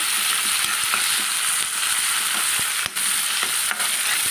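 Onion and tomato sautéing in a pan for pani puri masala filling, a steady close sizzle with scattered soft clicks of stirring and a couple of brief dips in the frying hiss.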